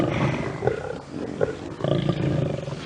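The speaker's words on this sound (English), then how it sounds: "Still more growling." Deep, rumbling lion growls and snarls, close and continuous, with sharper rasping bursts rising over the low throaty grumbling.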